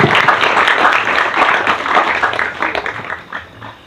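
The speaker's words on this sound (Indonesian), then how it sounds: "Tepuk tangan yang meriah." Lively, loud applause from a youth gathering audience: many close hands clapping in a thick, energetic burst that thins out and fades over the final second.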